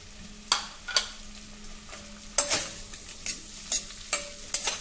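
Pumpkin sautéed in butter, heard as a low, gentle sizzle broken by repeated distinct scraping strokes of a spatula against the pan, close and steady, with no voices.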